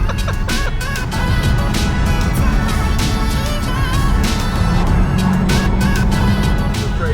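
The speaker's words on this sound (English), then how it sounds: "We can hear something scraping on the floor" A loose bumper on a crashed Honda scraping along the road as the car drives, a rough continuous grinding under the road and engine noise, with sharp scratchy bursts recurring through the drive.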